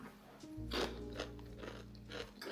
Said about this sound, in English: I wanted to show y'all my crunch test real quick.